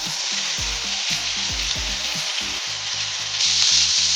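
Chicken reshmi kebab pieces sizzle steadily in a hot pan, a bright continuous frying hiss close up, with occasional soft clunks as the pieces are turned and the sizzle swelling near the end.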